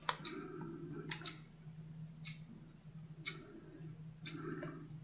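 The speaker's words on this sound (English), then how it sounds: "You can hear it ticking." A handmade resin clock decorated with butterflies and flowers ticks steadily, one faint, crisp tick roughly every second, over a low constant hum with no talking.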